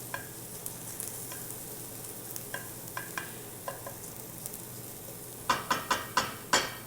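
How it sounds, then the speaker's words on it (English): Onions fry in a pan with a constant soft sizzle, broken by scattered light scrapes of a utensil and then a quick burst of five sharper stirring clatters near the end. "I don't want them to brown, which is why every so often I'm moving them around."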